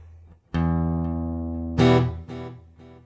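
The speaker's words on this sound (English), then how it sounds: "So there's our delay right there." Electric guitar run through a delay effect on a Roland GR-55, two struck notes that ring out with fading repeats trailing after each, clean and close with no voices.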